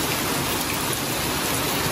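Rain coming down outdoors during a 1957 Chevrolet Bel Air quarter panel repair, a constant, fairly loud hiss of falling water with no other sounds and no speech.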